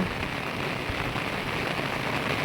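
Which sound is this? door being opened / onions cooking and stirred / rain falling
rain falling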